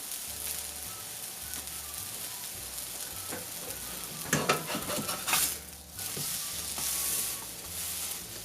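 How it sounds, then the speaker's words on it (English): Vegan recipe ingredients sizzle and fry in a pan, a steady crackle with occasional clinks and scrapes of a utensil stirring, a brief louder burst midway, no voices. "Now I am cooking."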